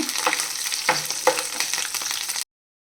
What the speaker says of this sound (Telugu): కరివేపాకు వేసుకున్న తర్వాత పచ్చిమిర్చి కూడా వేసుకుని ఫ్రై చేసుకున్నాము